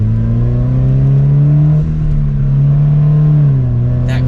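A Subaru BRZ / Toyota 86 sports car pulls hard in second gear, its engine droning loud and steady from inside the cabin with a brief dip in pitch midway, then holding on.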